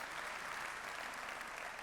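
An audience at a Google Cloud keynote in Munich applauds steadily, a dense even wash of many hands clapping at moderate distance, sustained without pause through the short stretch.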